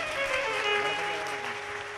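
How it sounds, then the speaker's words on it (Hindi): An audience applauds during a live Shiv Mahapuran katha, making steady, dense, moderately distant clapping over a faint sustained tonal background. "जोरदार ताली बजाकर स्वागत करिए।"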